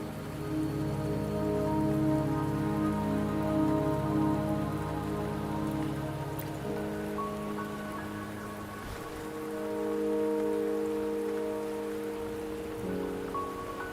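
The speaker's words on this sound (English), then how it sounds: "Don't worry, the rain won't last much longer." Steady rain falls in the video game Wuthering Waves, a continuous close hiss with a faint low rumble, accompanied by soft sustained background music tones.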